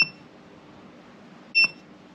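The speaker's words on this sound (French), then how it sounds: "petite enceinte intégrée, il bip à chaque fois" Two short electronic beeps from the built-in speaker of a Fossibot 2400W portable power station, one at the very start and a slightly longer one near the end, over faint background hiss.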